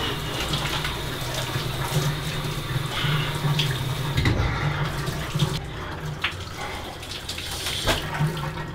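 Shower water running steadily in a bathroom, a continuous close hiss and splash that shifts slightly in tone as something moves through the spray, with no voices.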